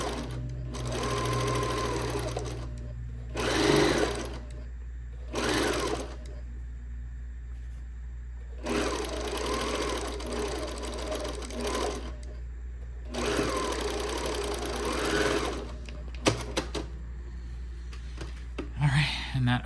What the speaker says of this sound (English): I'll start sewing off of it and onto the top fabric